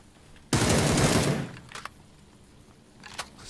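A new gun in a shooter game fires one loud, sharp burst of rapid automatic shots lasting about a second, then quiet with a couple of faint clicks afterward.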